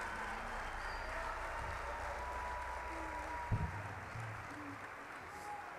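A live audience at a 2023 concert gives sustained, even applause, close and continuous, with one brief thump partway through.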